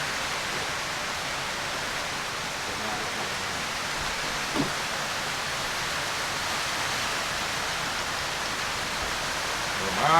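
Steady rain falling at an off-grid riverside home in Jamaica, a dense even wash of drops on surfaces that holds unchanged throughout, with one brief knock midway and a faint voice at the very end.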